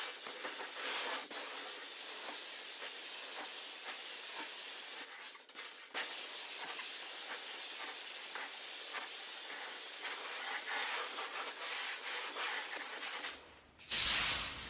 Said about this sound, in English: Time to hit it with the first round of clear coat